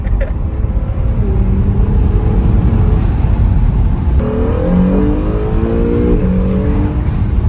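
A 2017 Acura NSX hybrid supercar accelerating hard, heard from inside the cabin as a loud, steady engine roar with rising harmonic tones that climb through the gears, continuous throughout without any speech.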